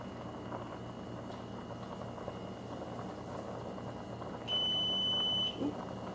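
A kitchen timer gives its one-minute warning while pasta boils on the stove, a steady high-pitched beep lasting about a second over a quiet simmering background.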